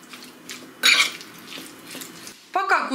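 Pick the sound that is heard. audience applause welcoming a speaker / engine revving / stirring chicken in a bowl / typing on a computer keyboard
stirring chicken in a bowl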